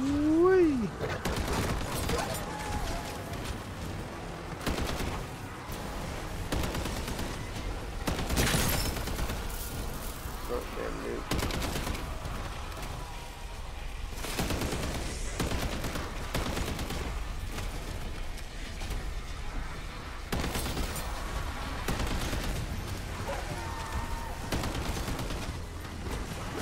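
Rapid bursts of gunfire cut down zombies in MW3 Zombies, with repeated volleys and sharp shots spread across the scene. Voices talk intermittently between the shooting.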